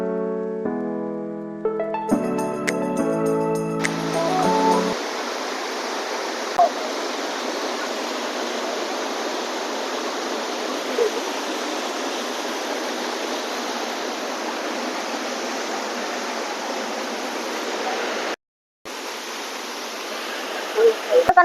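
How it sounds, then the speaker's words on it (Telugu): Hogenakkal waterfall roars steadily after a few seconds of music. The constant rush of falling water runs loud and unbroken, except for one brief dropout near the end. "సో ఇప్పుడు అక్కడ కనిపించేది ఇంకొక వాటర్ ఫాల్ అన్నమాట."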